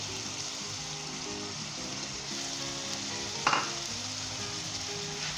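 Spiced egg bhurji masala sizzles and fries steadily in a karahi as it is stirred, with a brief louder scrape of the spoon partway through; close, continuous frying with no talk.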